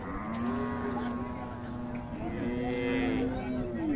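A Friesian cow at a rural cattle market lets out a long, loud, drawn-out moo, then a second call, with faint market bustle in the background.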